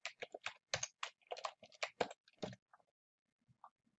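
Rapid keystrokes clatter on a computer keyboard as a password is typed, a dense burst of clicks that thins to a few isolated taps before falling silent.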